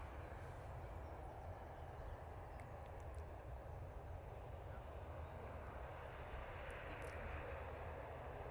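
An Aer Lingus propeller airliner taxis at Manchester Airport, giving a steady, continuous low engine drone and rumble that stays at an even, moderate distance throughout.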